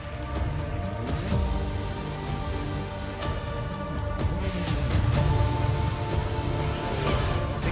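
Large studio audience applauding performers at a televised talent show semi-final, a dense steady wash of clapping that fills the whole stretch, loud and sustained with no talk.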